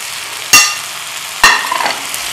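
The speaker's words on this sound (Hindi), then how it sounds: "अब हमने इसमें फ्लेम थोड़ा तेज़ करके ना जो भिंडियाँ फ्राई करके रखी थी उसको डाल दें।" Fried okra is tipped into hot tomato masala over a high flame, setting off two sharp bursts of loud sizzling about a second apart, each trailing into a steady crackling fry.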